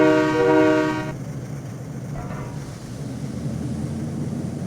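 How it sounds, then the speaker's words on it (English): A train in the Trainz 2019 railway simulator rolls past with a loud horn blast at the start, then a steady rumble of wagons continues close by with no talking. "we're just sitting on the ground watching the train come at us"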